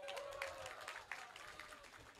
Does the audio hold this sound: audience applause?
yes